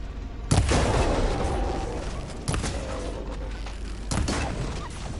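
In the video game Horizon Forbidden West, heavy machine guns fire three separate loud, booming bursts with echoing mechanical clatter between them. No one speaks.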